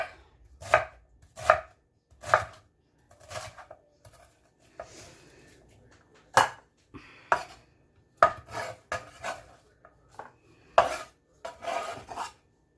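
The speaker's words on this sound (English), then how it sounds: "I have a little piece of cabbage here that I'm just going to chunk up real quick." Knife chopping cabbage into chunks on a board, sharp distinct thuds in irregular bursts, close and fairly quiet with silence between strikes.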